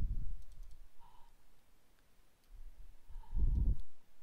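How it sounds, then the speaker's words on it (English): A computer mouse gives two separate pairs of quick, faint clicks a few seconds apart, each followed by a low thump in a quiet room. "Double click on test"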